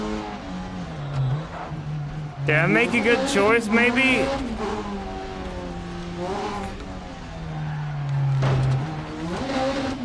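A rally car engine drones and revs with tire squeal and skidding in the VR racing game Dirt Rally 2.0, rising and falling in pitch while someone talks over it.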